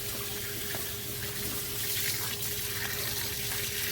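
Water runs steadily over a Nissan Altima engine during a coolant flush, a constant close hiss and splash with a faint mechanical hum underneath and no voices.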